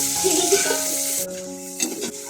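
Onion and garlic sizzle steadily in hot oil in a pan, a loud close frying hiss with stirring, briefly dropping off then flaring again near the end.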